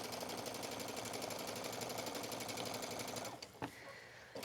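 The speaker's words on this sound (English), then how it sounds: "And again, you're gonna stitch all the way to the end." A sewing machine runs steadily, stitching a seam on a hooded towel with a fast, even mechanical rattle for about three seconds, then stops with a soft clunk and a little handling noise.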